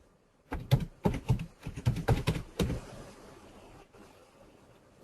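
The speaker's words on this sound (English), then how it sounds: "actually we can just start typing it." A short burst of keystrokes on a computer keyboard, about a dozen quick clicks in uneven clusters, close and fairly quiet, then near silence.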